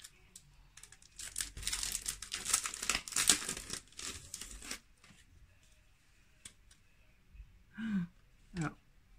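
A greeting card envelope being opened by hand, with dense paper crinkling and rustling for the first few seconds, then a pause and two short, sharper paper sounds near the end; no talk over it.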